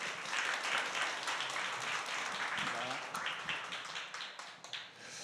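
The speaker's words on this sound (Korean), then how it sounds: "우리 담임 목사님 위하여서 박수로 맞이하도록 하겠습니다" A church congregation applauds to welcome the senior pastor, dense steady clapping from many hands that thins out toward the end, with some voices in the room.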